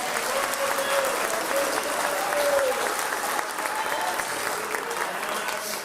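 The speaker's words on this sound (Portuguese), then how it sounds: "Mais forte as palmas." Church congregation clapping steadily and vigorously throughout, a dense even wash of palms at moderate distance with faint voices mixed in.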